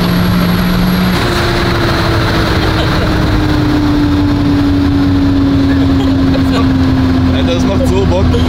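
A 1000 hp Volkswagen Golf accelerates hard in fourth gear, its engine a loud steady drone that climbs slowly in pitch throughout, heard from inside the car with a voice speaking briefly over it.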